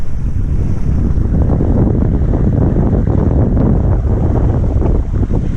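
Strong wind roars over a sailboat under sail, a loud, constant, low buffeting rush across the microphone with a hint of water splash beneath, no speech.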